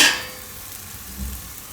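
A pea and potato paratha roasts on a hot griddle with a soft, steady sizzle. A brief low scrape or thud comes near the end, and no one speaks.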